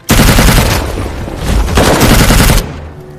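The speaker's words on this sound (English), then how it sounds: "However, this was disproved when Mike shot a Russian soldier." Sustained automatic gunfire rattles through a war movie battle scene, a loud, dense fusillade of overlapping shots that roars continuously for over two seconds before cutting off abruptly.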